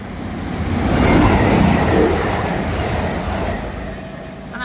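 A CrossCountry passenger service from Bournemouth to Manchester Piccadilly, unit 220033, passes through Hinton Admiral station with a rushing rumble and rail noise that swells, peaks and slowly fades over several seconds, and no one speaks.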